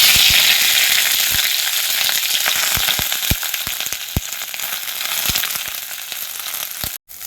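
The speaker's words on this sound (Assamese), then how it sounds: "ৰঙলা পাতকেইটা তেলত অকণমান গৰম কৰি ল'ম।" Red leaves sizzle in hot oil in a wok, a loud close hiss dotted with sharp pops and crackles, easing slightly before a brief cut near the end.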